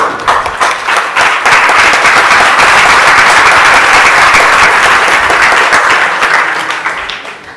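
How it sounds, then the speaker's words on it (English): Loud, sustained applause from a large congregation at an ISKCON temple gathering in Chowpatty, dense clapping swelling quickly, holding steady for several seconds, then tapering off toward the end. "That got bigger applause than your question."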